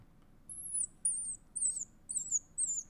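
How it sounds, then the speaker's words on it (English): A baby squirrel fallen from its nest, played back from a recording, cries in five thin, high, descending squeaks at even intervals, each about half a second long, over faint background hiss. "A baby squirrel had fallen out of its nest in the backyard."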